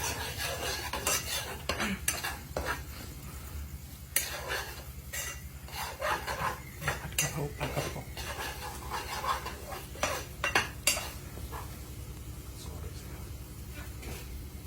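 Fresh chili and garlic are stir-fried in a pan, a utensil scraping and tapping against the metal in a busy, continuous rhythm over a low background hum, with occasional voices nearby.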